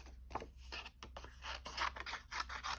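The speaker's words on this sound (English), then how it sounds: "I'm going to cut it down to..." Scissors snip repeatedly through card stock in a card-making session, a quiet series of short close cuts and paper rustles.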